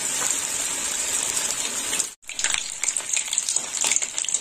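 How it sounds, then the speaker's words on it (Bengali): Battered cabbage pieces deep-frying in hot oil, two at a time, for a Bengali poppy-seed cabbage curry: a loud, steady bubbling sizzle that cuts out briefly mid-way, then resumes with crackling pops. "দু পিস করে ভেজে নেব।"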